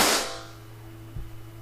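A Shocker SFT paintball marker fires after servicing, with a single sharp, loud pop at the start that decays quickly, followed by a steady low hum and a faint secondary knock.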